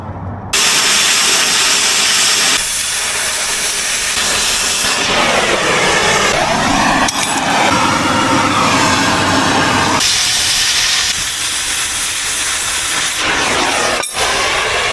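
An oxy-fuel cutting torch slicing through steel brackets on a military 10x10 truck: a loud, continuous roaring hiss that shifts in tone as the cut progresses, broken by a couple of sharp pops.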